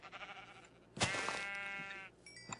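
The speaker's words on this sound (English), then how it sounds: "I have to kill a sheep." A single sheep bleat from the Minecraft video game, a quavering mid-pitched cry of about a second, fairly quiet against a low background.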